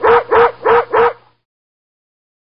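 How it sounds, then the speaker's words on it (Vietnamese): Two cartoon dogs bark in four quick, evenly spaced, loud yaps, then silence falls before another bark cuts in at the very end. "Có chuyện gì mà hai chú chó sủa dữ thế nhỉ?"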